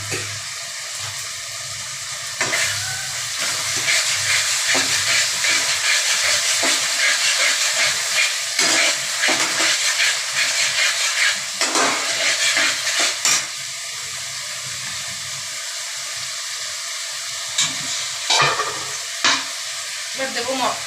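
About two spoonfuls of yogurt stirred into a hot pan for mutton kosha give a loud, constant sizzle and hiss, broken by repeated scraping stirs and brief spattering bursts, with no voices.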